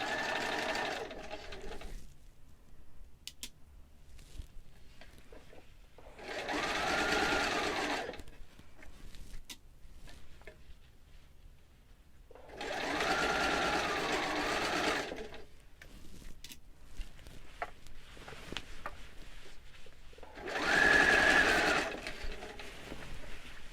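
A sewing machine stitches a zipper in short runs, four loud whirring bursts of a few seconds each separated by quiet pauses, close by with no talking.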